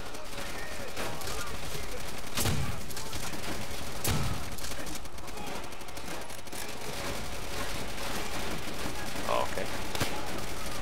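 Steady, dense gunfire and battle noise from Call of Duty: World at War, a continuous loud wall of shots with a few heavier booms, while a player speaks briefly over it.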